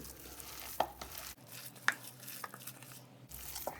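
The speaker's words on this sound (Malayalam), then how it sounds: "ബ്രെഡും പൊടികളും പിന്നെ സവാളയും എല്ലാം കൂടി ഒന്ന് നമ്മൾ കുഴച്ചെടുക്കണേണ്" Bread, spice powders and onion mixed and kneaded together by hand in a bowl, soft squishing and pressing sounds with occasional sharper taps against the dish, close and quiet, irregular rhythm, no speech.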